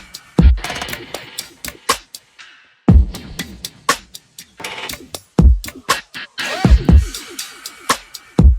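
Processed drum breaks taped for extra punch, playing back as loud, punchy kicks and snares in an uneven breakbeat groove with crisp transients and short gaps.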